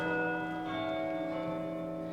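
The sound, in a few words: abbey church bells ringing at night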